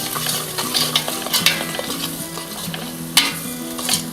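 Ground masala for Kolhapuri misal roasting in a pan, sizzling and crackling while a spoon scrapes and clinks against the metal in uneven strokes, close and alone.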